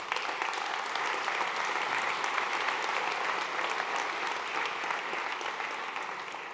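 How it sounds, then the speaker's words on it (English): Sustained audience applause at a tech conference keynote, a dense steady wash of many hands clapping throughout, moderately loud and fading slightly at the end, with no voices over it. "I think a round of applause there."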